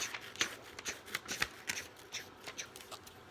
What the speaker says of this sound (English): So we're going to cut this line like this.